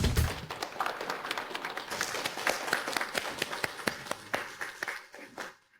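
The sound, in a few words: audience applause welcoming a speaker to the stage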